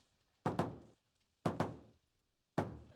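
Five solid knocks on a door in a pair, pair, single pattern, each a hollow thud with a short ring, close and clear in an otherwise quiet room.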